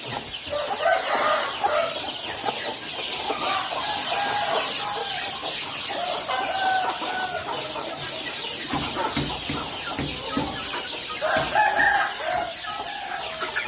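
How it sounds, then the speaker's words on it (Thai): Chickens on a Thai farm cluck steadily with bursts of rooster crowing, a lively continuous flock chorus with no talking. "ไก่ก็แข็งแรงสมบูรณ์ดีนะครับ"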